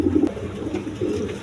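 Big-sized pigeons of a red-eyed breed cooing in low, throaty murmurs, a few soft rolling coos close by in a loft, with no talking.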